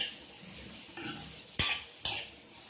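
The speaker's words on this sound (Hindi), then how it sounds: "इसको हम बस 1 मिनट के लिए हल्का सा ही भूनेंगे" A spatula stirs spring roll vegetable filling with black pepper in a hot pan, giving a few distinct close clinks and scrapes over a faint background sizzle.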